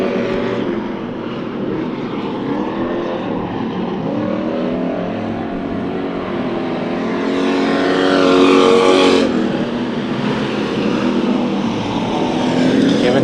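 Stock cars roar around Bakersfield Speedway in a heat race. Several engines whine and rev, their pitches sweeping up and down as they pass, loudest in a near pass about two-thirds of the way through.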